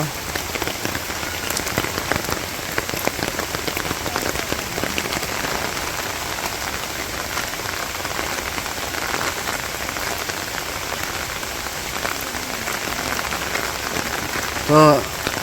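Steady rain falls on surfaces outdoors during a sudden daytime shower in a village, a dense and continuous patter that holds at an even level throughout with no talk.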